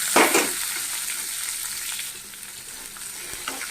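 Onion, coconut and tamarind frying in hot oil with asafoetida, a loud bright sizzle that flares at the start and then settles into a steady crackling hiss with occasional stirring.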